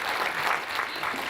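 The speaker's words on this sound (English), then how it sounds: "Can I have a round of applause?" A lecture audience in Salford breaks into brief, dense applause, a continuous wash of clapping at moderate level with no voices over it.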